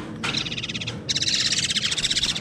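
Young magpie-robin chicks give bursts of rapid, shrill, repeated chirping close by, two begging bouts with a brief pause between.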